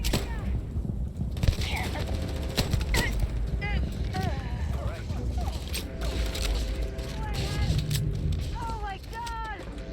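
Rapid gunfire bursts from a gun emptying a full magazine in the video game Starfield, crackling repeatedly under near-constant talk, with mechanical creaks and whooshing game effects mixed in.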